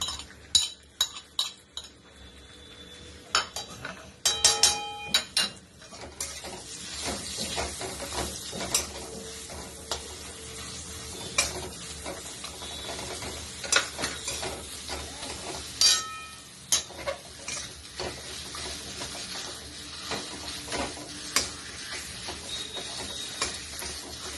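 Metal spoon clinks and scrapes against a hot pan while jackfruit seed mash is stirred with salt, with irregular sharp taps and a soft sizzle throughout.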